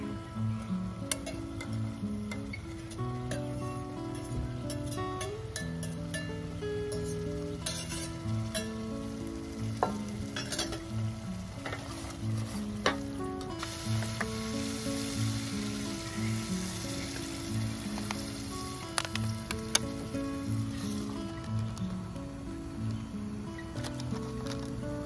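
Food sizzles and crackles steadily in a pan on a camping stove during overnight pickup-truck camping, a close, continuous frying hiss with small pops and occasional stirring clicks.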